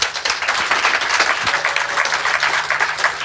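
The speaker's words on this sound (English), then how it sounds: "Warm round of applause for Robert" A room full of people applauding a speaker at a lightning talks event, loud continuous clapping that holds steady throughout with no voices over it.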